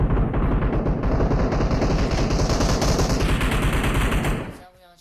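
Rapid automatic gunfire in the mobile game PUBG Mobile, a dense continuous burst of shots that stops abruptly near the end.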